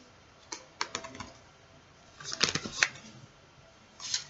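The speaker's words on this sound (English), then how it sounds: "I'm going to keep shuffling" Quiet bursts of crisp riffling and clicking, like a deck of cards being shuffled in short bouts close by.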